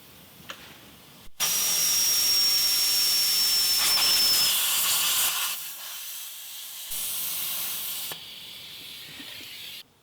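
Compressed air hisses loudly and steadily into a tire to seat the bead, a continuous close rush lasting several seconds that shifts level partway and then eases slightly before cutting off.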